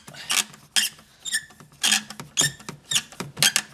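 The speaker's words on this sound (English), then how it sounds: "Getting a screwdriver to loosen the bracket just like you did for the top part of the box." A screwdriver turns against the bracket of a car air box under the hood of a 2011 Scion xB, making close, rhythmic scraping and ratcheting squeaks in quick repeated strokes.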